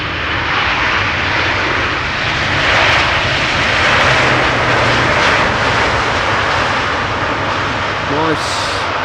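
A jet airliner takes off at Amsterdam Schiphol Airport, its engines roaring loud and steady for the whole stretch, a broad sustained rumble with a brief voice near the end.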